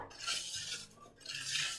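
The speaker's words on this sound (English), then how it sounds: "And then I'm gonna stir that together." A utensil stirs cornstarch into a pudding mixture in a bowl, giving two quiet, brief swishing strokes with light scraping against the sides.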